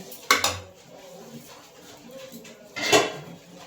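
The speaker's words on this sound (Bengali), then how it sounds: "আমি এটা ঢাকনাটা খুলে দিচ্ছি" A metal lid comes off a cooking pot of boiled potatoes: a quick clatter near the start, a short pause, then another louder clang and rattle, close by with no talking.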